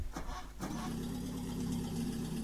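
A car engine in the survival driving game The Long Drive turns over and catches, settling into a steady, loud idle hum that continues to the end.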